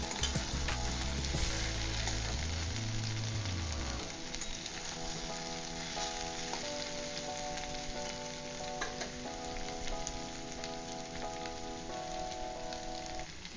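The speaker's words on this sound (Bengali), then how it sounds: "একটু ভালোভাবে ভেজে নিতে হবে।" Teasel gourd and potato frying in a pan, a steady close hiss and crackle of oil sizzling throughout, with a few stirring scrapes and faint clinks, no voices.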